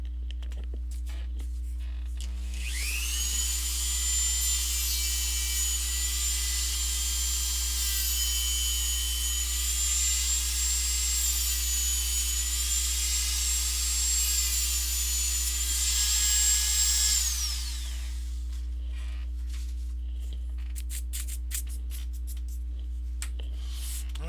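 A power tool bevels the edge of a cosplay armor helm, giving a steady high-pitched whine that runs for about fifteen seconds, then stops, leaving a low background hum.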